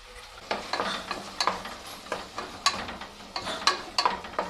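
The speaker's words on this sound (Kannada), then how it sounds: "ಮಸಾಲೆ ಸ್ವಲ್ಪ ಹಸಿ ವಾಸನೆ ಹೋಗೋದ್ವರೆಗೂ ನಾವು ಸ್ವಲ್ಪ ಒಂದು 2 ನಿಮಿಷ ಹುರ್ಕೋಬೇಕಿದೆ ಚೆನ್ನಾಗಿ" Ground masala fried in a pan for a nourishing bath dish, with a low sizzle under regular, rhythmic scraping strokes of a spoon, close and moderately loud.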